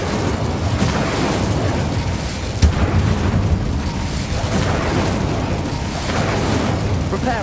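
Incendio fire spell cast in Hogwarts Legacy, a dense, steady roar of flame with a sharp burst near the middle, loud and sustained throughout.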